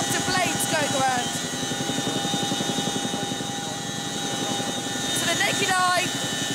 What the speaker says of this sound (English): I can just about make out the helicopter blades going around